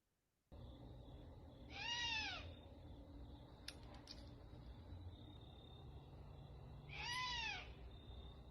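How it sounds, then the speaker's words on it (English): An immature owl gives two drawn-out, wavering begging calls several seconds apart, each a whining, rising-and-falling screech, moderately near over a quiet hiss of background noise. "this is what an immature owl sounds like"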